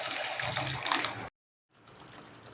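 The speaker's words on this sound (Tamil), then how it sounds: "இப்போ இந்த தண்ணி ஆட் பண்ணிக்கலாம் ஃப்ரெண்ட்ஸ்." Drained water poured from a vessel into gravy for white pea sundal, a close steady splashing gush that cuts off abruptly, then a softer simmering hiss.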